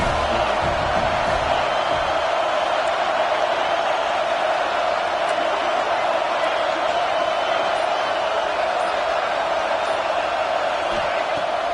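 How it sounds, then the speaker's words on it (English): Stadium crowd at an American football game, a dense continuous roar that holds steady throughout with no breaks, loud and enveloping, with a voice faintly mixed in. "Here comes second down, and this crowd is turning it up a notch."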